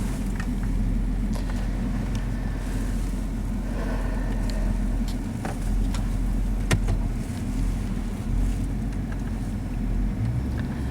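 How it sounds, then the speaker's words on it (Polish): A car engine running on LPG hums low and steady as the vehicle gets moving, a continuous rumble with no talking. "Czy Piotrek ruszamy testowo tym pięknym samochodem?"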